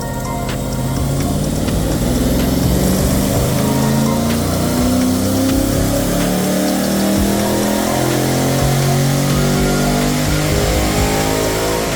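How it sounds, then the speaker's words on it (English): A Holden VE-VF V8 fitted with a Thunder Pack power upgrade roars on the dyno, a loud, steady, close engine drone with rising and shifting revs and no voices. "we put it on the dyno and custom tune it to suit your vehicle"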